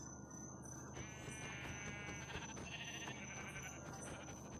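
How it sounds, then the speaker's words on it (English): A sheep in Minecraft Bedrock, a video game, bleats in a few wavering, nasal calls over a steady background of ambient game noise and faint insect-like chirping. "but we need these sheep"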